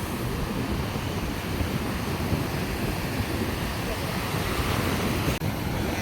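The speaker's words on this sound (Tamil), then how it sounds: "இந்த அடியில் பாருங்க எப்படி கடல் அடிக்குது." Rough sea surf pounds a fishermen's beach in a steady, dense roar of crashing waves, close and loud, blended with wind noise throughout.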